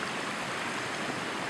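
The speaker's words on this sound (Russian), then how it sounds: "Многочисленные ручьи" Numerous mountain streams run down ridge spurs beside a climbing mountain road in December, making a steady, close, broadband rushing of water that continues without pause and with no voices.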